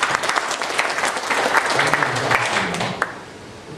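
An audience at a 2015 annual shareholders' meeting of dairy farms claps steadily and fairly loudly for about four seconds, a broad wash of many hands with a few faint voices mixed in.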